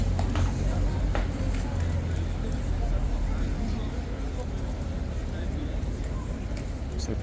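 A Household Cavalry horse's hooves clip-clop on hard ground under a steady wash of crowd babble and street noise, the strikes faint and scattered within the din.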